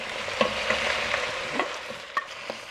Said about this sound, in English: Add 500 grams of medium ground beef and 500 grams of ground pork to the pot.